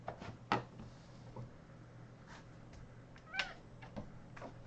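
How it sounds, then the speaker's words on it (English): A pet cat meows nearby in several short, separate calls spread over a few seconds, with quiet room noise between them. "Oh my god, my cat."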